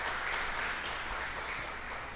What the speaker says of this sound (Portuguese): Vamos dar uma salva de palmas para esse casal lindo